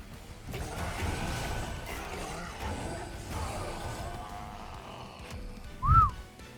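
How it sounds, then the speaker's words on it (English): A person whistles directly into a microphone: one short, sharp rising-and-falling whistle near the end, with a thump, loud and close over quiet video game background sound. "Oh, don't whistle directly into the mic"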